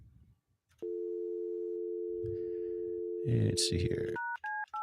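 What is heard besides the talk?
telephone busy signal and dialing tones during a phone call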